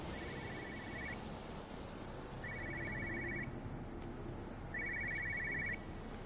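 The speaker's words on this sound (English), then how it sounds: "I can hear a telephone ringing." An electronic telephone ring in the video game Everybody's Gone to the Rapture trills three times at even intervals, fairly faint over a steady low background hum.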